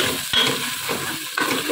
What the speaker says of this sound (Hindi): इसको अच्छे से 10 सेकंड के लिए फ्राई करेंगे थोड़ा सा